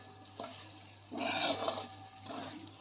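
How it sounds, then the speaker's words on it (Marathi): Chana chaat tossed with chole masala in a pan, heard as a soft background sizzle and bursts of stirring and scraping, loudest in the middle. "थोडंसं वरून टाकायचं आहे छोले मसाला आणि याला छान असं परतून घ्यायचं आहे"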